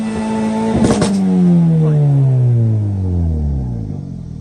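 A car engine with a turbo GDI motor and a switchable exhaust valve opened, revving hard once and then sliding down smoothly in pitch as the revs drop, loud and close with no talking.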